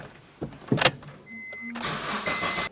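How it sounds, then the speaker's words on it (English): A 2006-2011 Honda Civic engine cranks with a short burst of starter noise, then catches and settles into a steady, close idle. "Start up the car, let it run for a couple seconds and turn it back off."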